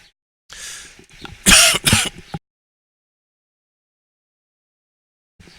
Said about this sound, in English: Delayed smoking cough.